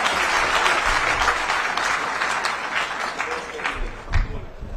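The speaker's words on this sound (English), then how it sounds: "Let's just accept that Kiza is one of them and give him a big round of applause" Big round of applause from a conference audience for a professor at a closing session, dense sustained clapping filling the room with crowd noise and some voices mixed in, fading slightly near the end.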